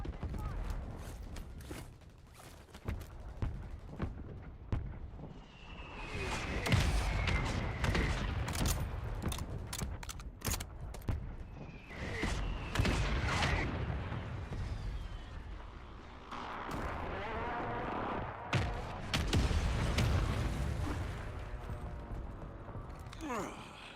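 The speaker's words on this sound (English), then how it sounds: "Friendly mortar strike on the way." Repeated mortar strike explosions in a military video game land in heavy booming bursts amid dense gunfire and battle noise, with voices heard through the chaos.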